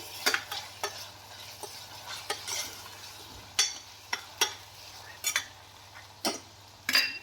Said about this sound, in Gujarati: આપણે થોડી હળદર એડ કરશું અને સ્વાદ પ્રમાણે આપણે નિમક એડ કરશું અને ફરી પાછું આપણે હલાવશું